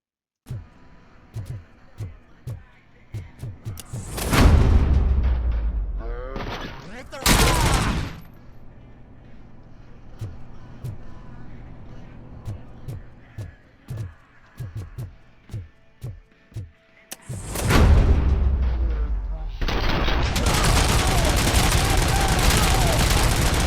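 Gunfire in the video game RoboCop: Rogue City comes in two loud, dense bursts of rapid shots, the second one sustained to the end, with quieter stretches of game noise between them.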